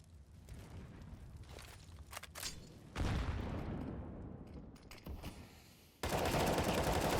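Rifle gunfire crackles in a CS:GO pro match between Sprout and Wisla Krakow, with scattered shots and rapid bursts that grow denser and end in a loud, sustained volley.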